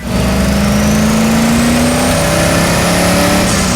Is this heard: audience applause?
no